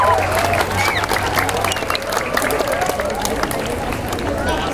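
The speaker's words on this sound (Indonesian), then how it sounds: "tepuk tangan buat SMP Negeri 1 Kuningan" A school audience applauds and cheers for a junior high school at an Indonesian gathering, steady dense clapping mixed with crowd noise and voices, loud and sustained throughout.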